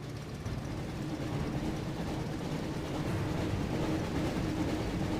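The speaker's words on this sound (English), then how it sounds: "Looks like we found the train, Ron." The Hogwarts Express runs in Harry Potter and the Chamber of Secrets on the PS1, a steady, dense rumble with a low rolling hum that holds level for five seconds without voices.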